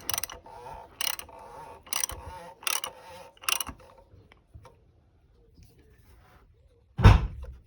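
A ratchet fitted with a 32 socket works the sump plug of a 2008 Audi A3 8P 1.4 TFSI petrol, five quick bursts of close, sharp clicking, a quiet pause, then one loud metallic clunk.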